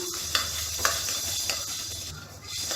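Black peppercorns dry-roast in a hot pan while a utensil stirs them, giving a soft steady sizzle with a few light scraping taps.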